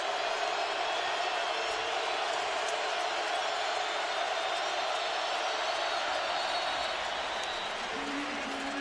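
A stadium crowd of 93,000 at an LSU Tigers versus Alabama football game roars in a steady, broad wash of cheering under a commentator's voice.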